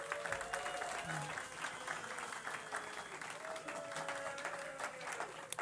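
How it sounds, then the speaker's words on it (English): Applause from a city council meeting audience honoring state champion cheerleaders, fairly quiet and steady throughout, with whoops and voices mixed into the clapping. "Can we give them a round of applause?"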